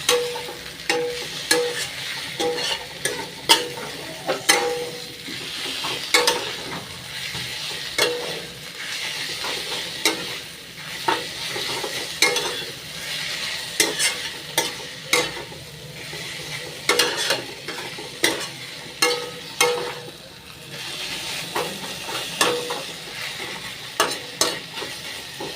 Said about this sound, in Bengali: শাক ভাজা হয়ে এসছে।